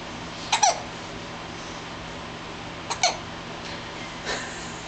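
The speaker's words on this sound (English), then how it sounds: "has the hiccups" A baby hiccups, with two short hiccups a few seconds apart and a faint third one after them, heard quietly over a low background hiss.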